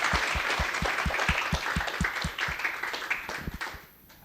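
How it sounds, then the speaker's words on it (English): Audience applause at a university provost lecture honoring a professor's promotion, a lively round of clapping with a steady beat that thins and fades out near the end. "let's start with a big round of applause for Marco."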